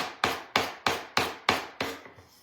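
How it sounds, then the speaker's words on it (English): Hand sanding of excess material on a coaster produces six even rasping strokes in a steady rhythm, each starting sharp and fading, loud and close with no talk. "we are sanding off the excess on our coaster here"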